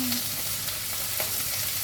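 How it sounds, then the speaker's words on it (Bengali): Onions and capsicum fry in a pan with a steady, close hiss of sizzling oil and faint stirring, brief and unbroken. "পেঁয়াজগুলোকে। 1 থেকে 2 মিনিট মতো ভেজে নিলেই হবে।"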